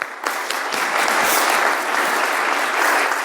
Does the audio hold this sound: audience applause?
yes